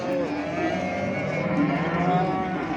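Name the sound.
cow mooing at Çorum livestock market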